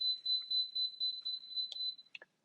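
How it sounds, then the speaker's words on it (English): An electric stovetop beeping in a kitchen: a run of loud, high, evenly spaced tones, each held briefly, that stops after about two seconds, followed by a couple of small clicks. "Yes, beeping stovetop."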